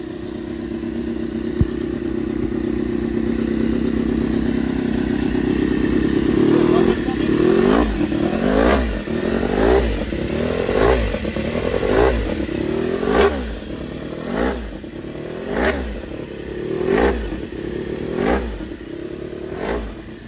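Honda RC213V-S motorcycle engine on VP race fuel, starting as a rough steady idle then breaking into a series of sharp blips and revs, fairly close, with people talking in the background.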